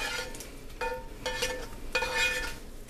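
A spoon stirring macaroni and cheese in a pot makes three soft scraping, squelching strokes with a slight metallic ring, close and fairly quiet, no voices.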